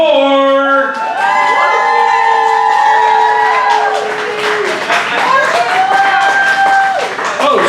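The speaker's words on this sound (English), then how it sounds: "Please give a round of applause to Megan Moore" An audience at a poetry slam in Dayton, Ohio claps and cheers for a poet, steady applause mixed with whoops and shouts, with a voice talking over the crowd noise early on.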